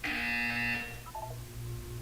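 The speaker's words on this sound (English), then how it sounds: "You will hear a buzzer." Buzzer from the Portal 2 video game sounds once, a loud harsh electronic drone lasting most of a second before fading into a low hum.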